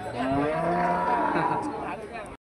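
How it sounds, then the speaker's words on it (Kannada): A cow at the Ranebennur cattle market lets out a loud, drawn-out moo lasting a couple of seconds, close by and clear over faint market background. "ಇದು ನಮ್ಮ ರಾಣೆಬೆನ್ನೂರು ಹಸು ಮಾರುಕಟ್ಟೆ, ಆಕಳು ಮಾರುಕಟ್ಟೆ."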